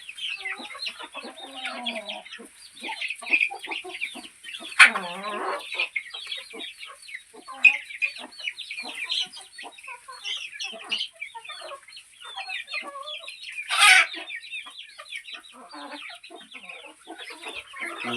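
A flock of free-range country chickens clucks and chatters continuously nearby while feeding, with a couple of louder squawks standing out, and no talking.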